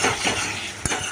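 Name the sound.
stirring garlic and ridge gourd in a pan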